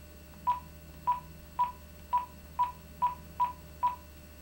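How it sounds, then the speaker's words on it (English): Telephone keypad dialing tones: eight short, evenly spaced beeps about half a second apart, clear and close over a faint low hum, with no talking. "I don't want the beep, beep, beeps to go out because some people that are really into it can figure out the phone number that way"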